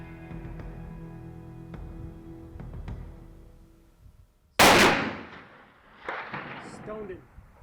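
A rifle fired at long range outdoors: one loud, close blast cutting in partway through, followed by a fainter echo or distant impact, with low murmuring speech and background noise beforehand.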